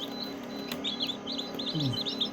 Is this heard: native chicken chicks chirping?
yes